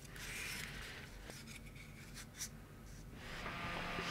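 Hand sanding of a slightly damaged part in a CNC control box build, soft close rasping strokes in short bursts, quiet and with no talking.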